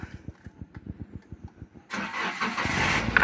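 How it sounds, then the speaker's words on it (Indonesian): A starter motor cranks in a steady rapid chug, then the fuel-injected engine of a 2017 Toyota Rush TRD Sportivo Ultimo with a 5-speed manual catches and settles into a louder, continuous idle. "Nyala mesin masih bagus banget ya."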